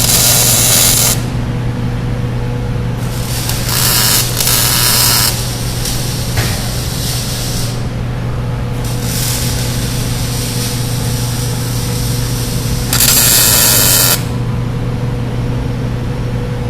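Tack welding brake tabs onto a Kids Attractions HD2, HD3 or HD4 dolly, several separate bursts of welding crackle over a constant machine hum, each lasting about a second or two.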